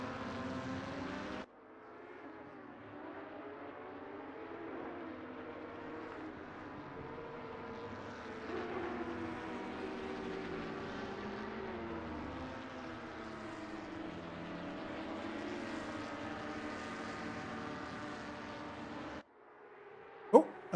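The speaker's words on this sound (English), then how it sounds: "These Porsche Cup cars, although they sound glorious at high revs, low revs, they sound a little flatulent." Porsche Cup race car engines roar at Paul Ricard in a sim-racing event. A faint, steady engine drone with tones sliding up and down fills nearly the whole stretch, with brief quiet at the start and end.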